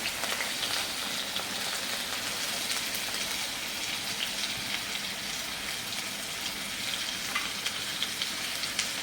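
Garlic and onion paste fries in hot mustard oil with bay leaf and a dried red chili, a dense, steady sizzle running close and loud without a break throughout.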